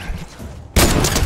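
A sniper rifle shot lands a headshot in Fortnite, a sudden loud crack that bursts in after a quieter stretch and stays dense to the end.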